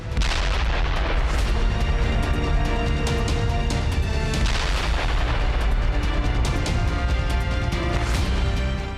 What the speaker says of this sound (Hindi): ग्लाइड बम से हमला, मिसाइल से निशाना।